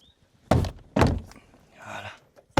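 Several heavy car door thuds in succession as all four doors are closed, close and loud, with a brief rustling sound between the later ones, on a car with a BMW N47 diesel engine.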